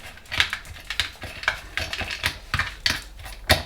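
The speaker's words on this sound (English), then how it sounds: "If you can hear any pitter-pattering in the background, it's the dogs." Quick light clicks and taps of dogs' paws patter irregularly on a hard floor nearby, with no talking.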